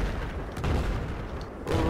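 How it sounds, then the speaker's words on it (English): A dense, roaring explosion in the shooter game Battlefield 4, loud and close, filling the whole brief moment with heavy rumble and a second surge at the end. "What was all that explosion?"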